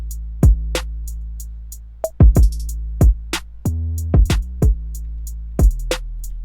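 Sparse electronic hip-hop drum pattern made in FL Studio, with deep booming kicks and crisp hi-hat ticks, playing in a loose, syncopated rhythm with no vocals.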